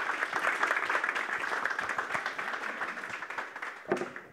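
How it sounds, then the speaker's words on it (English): A conference audience at a Hamburg industry event applauds a panel, a fairly quiet, dense round of clapping that holds steady, then thins toward the end with a few last claps. "So please, a round of applause for the colleagues."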